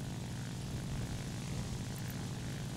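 Steady, loud propeller drone of a Ki-43-II fighter in War Thunder, a continuous low engine roar maneuvering alone with no voices over it.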